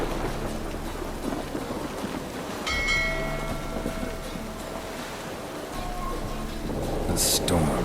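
Stormy weather in The Witcher 3: a dense, constant roar of rain and wind with surging water, a few brief tonal game sounds cutting through, and voices speaking over it.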